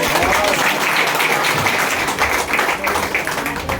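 Audience at a Diwali Pahat music stage event clapping, a dense sustained burst of applause filling the whole stretch at strong, even loudness.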